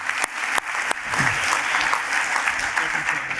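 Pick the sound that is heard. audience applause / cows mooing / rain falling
audience applause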